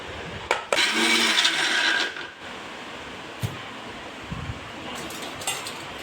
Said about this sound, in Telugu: ఈ ముక్కల్ని మిక్సీ జార్కి వేసుకొని నీట్గా గ్రైండ్ చేసుకొని